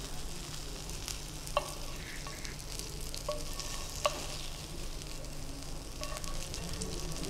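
Tofu pan-searing in a frying pan, its second side browning, gives a steady low sizzle throughout, with a few sharp clicks and taps of a utensil against the pan.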